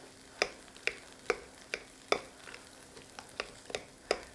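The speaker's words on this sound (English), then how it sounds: "just kind of mashing it with my spoon till we get it all mixed in that lemon juice" A spoon mashes and stirs cream cheese thinned with lemon juice in a bowl, giving about a dozen soft, regular scraping taps close by and without talk.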